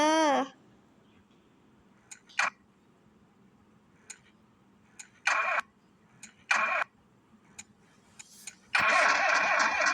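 A car engine cranking in several short bursts, then catching and running loudly at the end, close by.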